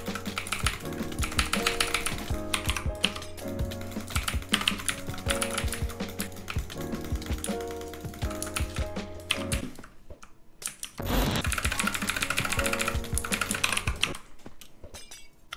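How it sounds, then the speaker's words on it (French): An RGB gaming keyboard with blue switches, keys clacking rapidly in dense bursts of sharp clicky presses, close and loud, with a brief pause near the end before typing resumes. "On entend bien les touches du clavier."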